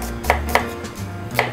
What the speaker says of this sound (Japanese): で、玉ねぎも使うので、玉ねぎ、これはね、スライスにします。